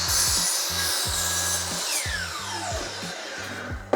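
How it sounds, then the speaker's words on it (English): A miter saw cuts through wood nearby with a harsh grinding rasp across the whole clip, over a rhythmic low thumping in the background. "now we're gonna bring it back to the miter saw, and then where this blade is going to hit the back of this piece, that is where we want to start our cut"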